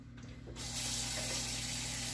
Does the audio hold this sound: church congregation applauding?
no